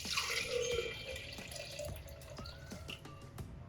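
Water poured into a container in a home kitchen, the first step in making butter from cream, sounds as a steady close splashing trickle with scattered drips, alone without talk.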